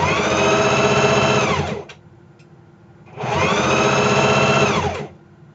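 Sewing machine stitching over a bulky gathered tier seam on a dress, two loud steady whirring runs separated by a short pause with faint clicks, alone without talk.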